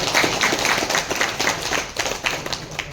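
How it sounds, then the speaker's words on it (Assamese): An audience at a public gathering claps hands in support, a dense, steady wash of many hands applauding loudly for the whole stretch without talking. "সমৰ্থন জনাই এটি হাত তালি বজাবৰ কাৰণে অনুৰোধ কৰিছোঁ"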